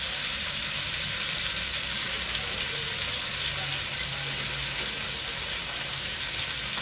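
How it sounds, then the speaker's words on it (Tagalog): Chicken sears in a pan with sautéed tomato, onion and garlic, giving a steady, dense sizzle that runs unbroken from start to finish, loud and close, with no talking. "Sasangkutsa ko muna itong ating manok, no?"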